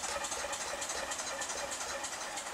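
A steady engine running with a fast, even pulsing beat under a bright hiss, close by and constant throughout.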